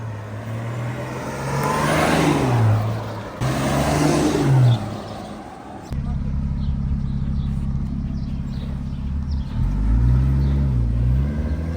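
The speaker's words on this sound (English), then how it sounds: "enjoy listening to the M57 engine running and driving for the first time just up and down the road" A BMW M57 diesel engine rumbles steadily as the car drives up and down a road, a deep low drone with the revs rising and falling near the end.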